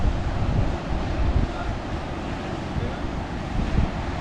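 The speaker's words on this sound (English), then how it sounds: "Oh, some big waves coming in." Big ocean waves rolling in at the shore along a remote coastline, a broad rushing surf roar mixed with heavy wind buffeting the microphone, loud and continuous with surges near the start and end.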